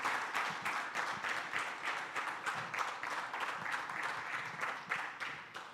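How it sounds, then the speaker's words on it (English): An audience applauding at a TEDx event, a continuous close wash of many hands clapping that holds steady for the whole stretch without voices. "Let's give Safwan a round of applause."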